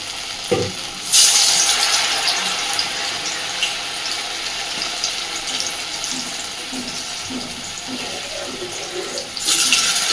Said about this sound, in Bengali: আর এইবার ব্যাটারে ডোবানো পটলগুলোকে আস্তে আস্তে তেলের মধ্যে দিয়ে দেব